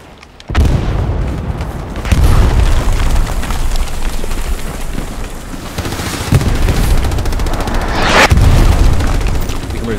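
Heavy artillery shells burst in the World War II shooter Hell Let Loose, loud rolling booms hitting one after another with a constant rumble of battle between them, and a player's voice faint beneath.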